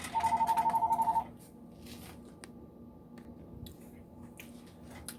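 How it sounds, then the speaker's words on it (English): A mobile phone rings indoors in a kitchen with a rapid run of bright, evenly pulsed electronic tones for about a second. The ringing then cuts off, leaving faint rustling and handling noise. "Forgot to turn my phone off."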